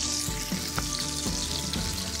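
Steady sizzling of cheese frying in a pan until browned into cheese chips, a continuous crackling hiss with a few soft scraping clicks, close and fairly loud.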